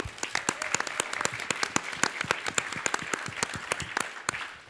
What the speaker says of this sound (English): Round of applause for Amy.